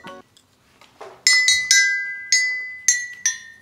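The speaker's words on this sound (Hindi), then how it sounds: "ये है पापा का साइलोफोन।" A toy xylophone is struck in a handful of bright, glassy metallic notes, each ringing and decaying, played close and loud in a quiet room with no talking.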